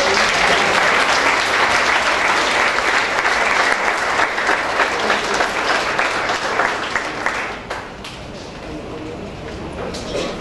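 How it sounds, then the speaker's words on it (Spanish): A church congregation bursts into sustained loud applause, dense clapping that holds steady for most of the stretch before thinning out slightly near the end. "vamos a recibir con un fuerte aplauso"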